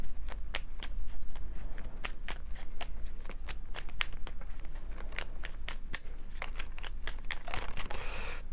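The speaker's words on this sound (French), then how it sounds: "je prends l'une des cartes du petit oracle des archanges" Cards from a small archangel oracle deck being shuffled and drawn by hand, a steady run of crisp riffling snaps and slides, close and fairly loud, ending in a denser rustle of card handling.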